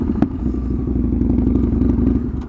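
A Yamaha V-twin motorcycle with straight pipes idles loudly and close, a deep, uneven lumpy rumble with a Harley-like thump and some clattery mechanical noise.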